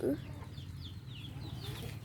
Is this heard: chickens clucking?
yes